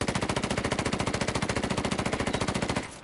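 Sustained burst of SMG fire in the video game Ghost Recon Wildlands, a rapid, evenly spaced stream of loud close shots for nearly three seconds before cutting off, with no voice over it.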